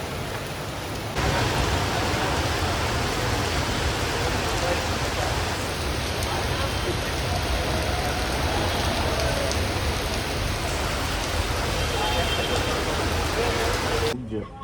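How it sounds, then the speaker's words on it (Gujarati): Heavy rain pours steadily in Surat, a dense, continuous roar of falling water on surfaces that holds at full loudness for the whole stretch, with voices faintly audible beneath it. "અત્યારે સુરતમાં કાંઈ વરસાદ છે તમે આમ જોવો ખાલી"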